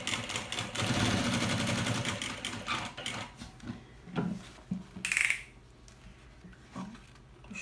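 A sewing machine stitches a small thermal bag in a short burst of close, rapid whirring. It is followed by quieter handling clatter and a few sharp knocks.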